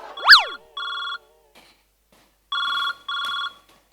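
An electronic telephone ringtone sounds in short, even bursts during a Marathi stage comedy sketch, ringing three times after a brief rising electronic sweep, loud and close with no talk over it.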